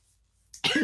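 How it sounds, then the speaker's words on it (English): A single sharp cough bursts out near the mic while drinking coffee, after a quiet stretch. "Coughing on my coffee."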